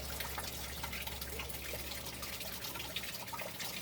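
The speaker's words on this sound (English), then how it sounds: "Sometimes I need a little more water pressure, I'll turn the hose up." A garden hose running water over a split table, a steady soft hiss and trickle with faint splashing and drips, fairly quiet and continuous.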